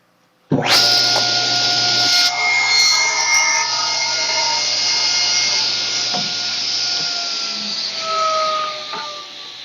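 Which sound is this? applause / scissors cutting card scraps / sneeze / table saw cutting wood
table saw cutting wood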